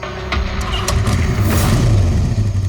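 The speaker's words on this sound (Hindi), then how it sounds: "ये कौन जा रहा बाइक पे?" A motorbike engine revs and pulls away, loud and close, its rising drone mixed with background noise from the scene.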